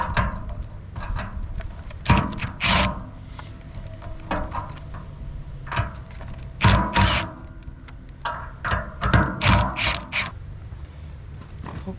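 Bolts being loosened on a corn chopper, giving a series of irregular metallic clanks, ratchet clicks and thuds, close and fairly loud against a steady mechanical hum.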